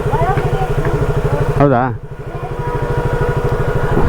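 A motorcycle engine idles close by with a steady, rapid low putter, and a voice briefly speaks over it partway through.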